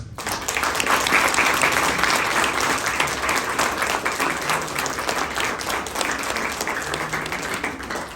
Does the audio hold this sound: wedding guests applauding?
yes